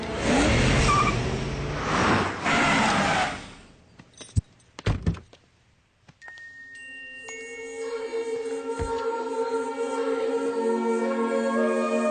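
Cars pulling away with engines revving, after heavy door thunks and clattering knocks, then a sustained rising engine roar building loudly over several seconds.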